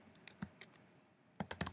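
Keys on a computer keyboard clack in two short bursts, a few scattered taps followed by a quick cluster, close and quiet with a pause between.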